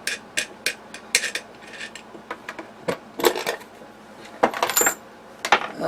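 Metal Craftsman sockets clink and rattle against each other as the dust is cleaned off them in a workshop, giving a string of sharp, close, irregular metallic taps and small clatters.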